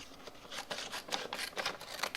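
Scissors snipping out a DTF transfer sheet, a run of short, crisp cuts in an irregular rhythm, close and fairly quiet, with no voices.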